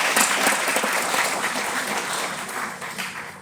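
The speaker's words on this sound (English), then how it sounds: "I think we can clap." Audience applause fills a room during a round table discussion at a Night of Ideas 2020 event, a steady wash of many hands clapping at moderate volume that tapers slightly toward the end.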